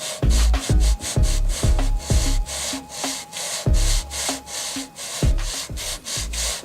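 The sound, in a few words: hand sanding a chip repair on mahogany furniture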